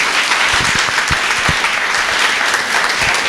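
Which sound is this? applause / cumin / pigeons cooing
applause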